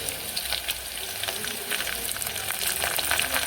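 Cumin seeds sizzling in hot oil for a quick khichdi, a loud, dense crackle and hiss that holds steady throughout, close to the mic.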